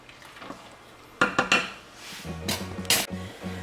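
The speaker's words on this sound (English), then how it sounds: "You will want to stir your macaroni once in a while just so it does not stick to the bottom of your pot" Macaroni stirred in a metal cooking pot of boiling water: a few distinct clanks and scrapes of a utensil against the pot, then softer scraping and rattling knocks, close and isolated with no talking.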